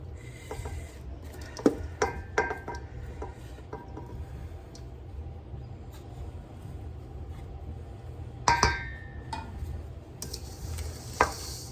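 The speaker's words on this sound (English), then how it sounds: "Let's try to scrape off all this off the spoon." A spoon scraping sticky homemade granola bar mixture into a pan: soft, quiet scraping and rubbing, with a few sharper knocks and clinks.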